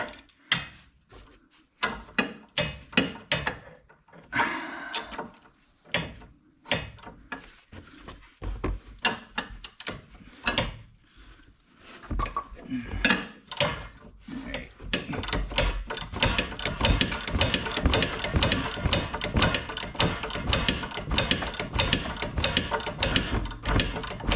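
Socket wrench working loose a front sway bar end link on a 2015 Jeep Renegade, with rapid ratcheting clicks in bursts that grow into a dense, continuous, loud run of clicking toward the end.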